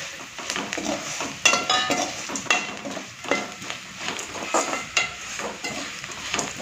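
Onion and masala sauté in a pan for a cassava fry, giving a steady sizzle with repeated scraping stirs and light utensil clatter close by, with no talking.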